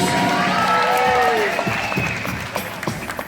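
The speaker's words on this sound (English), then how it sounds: "Give my volunteers a round of applause." Audience applause and cheers for volunteers at a live Fear Factor stage show, a dense crowd roar that swells and then thins into scattered claps, with a host's voice and a whistle-like tone over it.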